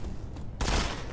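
Gunfire erupts in the mobile shooter Modern Combat 5, a sudden dense burst of shots that starts midway and stays loud, following a quieter stretch of muffled game ambience.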